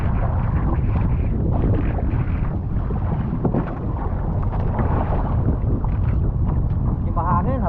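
Strong monsoon wind at sea buffets the microphone in a steady roar, with water sloshing and voices talking underneath throughout.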